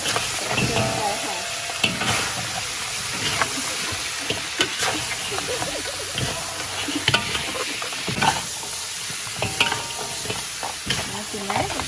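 Garlic frying in a pan for a crab stir-fry, with continuous sizzling and repeated scraping and clinking of stirring, and faint voices in places.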